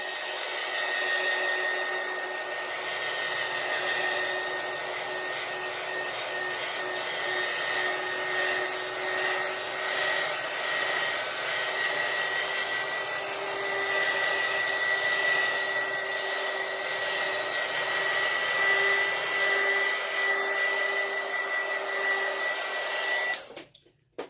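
A hair dryer blows steadily to quickly dry a thin coat of alcohol ink, a loud, even whirring roar with a constant whine that runs uninterrupted for over twenty seconds before cutting off abruptly at the end; nobody speaks.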